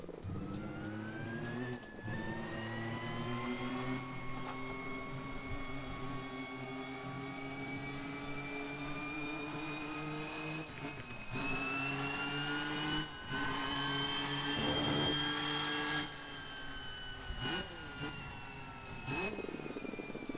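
A McLaren MP4/4 Formula 1 car in Assetto Corsa, turbo turned down to its minimum setting, pulls away in first gear. The engine drones loud and close, its pitch rising steadily with brief dips at each lift of the throttle.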